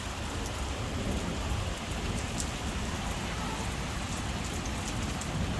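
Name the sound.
constant thunder rumbling during heavy rain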